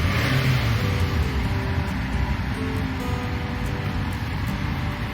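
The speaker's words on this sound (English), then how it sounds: "Rev engine." Car engine revving with the electrical loads and lights switched on during a battery tester alternator check, a steady low rumble held at raised revs with a constant hum, close and continuous for several seconds.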